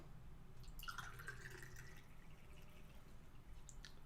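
Coconut rum is poured generously into a jigger as a quiet, short liquid stream with a rising filling tone, followed by a few faint drips in a hushed room.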